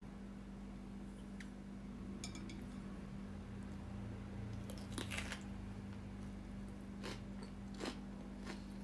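Crisp bites and crunching into cucumber halves stuffed with a tuna and pepper mixture, several sharp crunches spread over a quiet, steady background hum.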